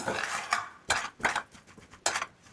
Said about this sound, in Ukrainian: Ще раз перемішую.